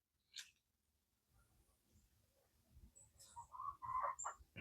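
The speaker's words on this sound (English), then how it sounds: "I can hear the babies, the little baby chickens" Faint outdoor farm scene with soft, scattered high-pitched peeps and chirps from baby chickens, growing busier toward the end over low background rumble.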